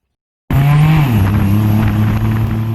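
A tuk-tuk motor rides through busy Bangkok street traffic, its loud, steady engine drone starting abruptly and holding a rough, buzzing tone close by, with no voices.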